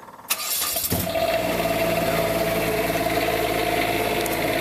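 An Onan 7500 quiet diesel generator cranks briefly, catches, and settles into a loud, steady, even hum with a constant droning tone, heard close and alone without voices.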